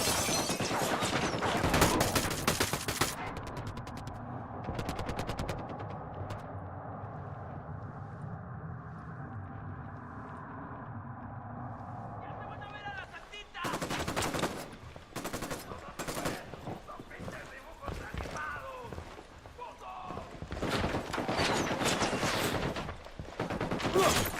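Bursts of automatic gunfire in the Ghost Recon Wildlands military shooter game, loud and sustained at the start and breaking out again in repeated volleys later, with a quieter stretch of ambient game sound and low machinery rumble between.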